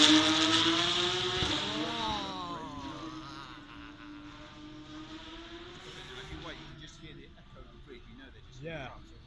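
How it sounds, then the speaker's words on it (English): Porsche 911 GT3 Cup car with a flat-six engine passing at the Goodwood Festival of Speed, a loud rising engine note that peaks early and fades into the distance, under continuous talk. "There's a Porsche 911 Cup car out there at the moment, the GT3 Cup car making its way up towards Malcolm."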